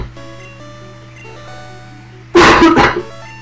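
A person gives a short burst of loud, close coughs, two or three rough hacks over about half a second, breaking suddenly into a steady background of music and tones.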